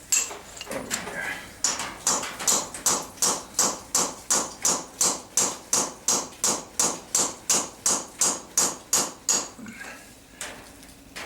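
Close, loud metal-on-metal hammer blows knocking out a trailer wheel bearing, about two dozen sharp strikes in a steady rapid rhythm with a brief pause near the end.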